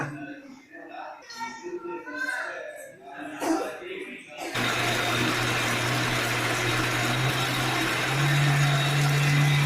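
People talk and chuckle briefly, then a mixer grinder starts up grinding snake gourd chutney with a loud, steady whirring roar that continues and rises slightly in pitch.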